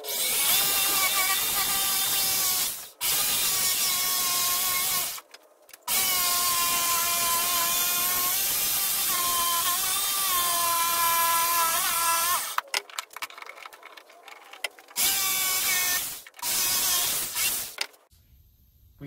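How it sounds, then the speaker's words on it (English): A jigsaw cuts a piece of hickory along a curved whiskey-barrel contour in long loud buzzing runs, the pitch wavering with the load, broken by short pauses and a few quieter stretches. "I can cut that out with a jigsaw and see how it fits."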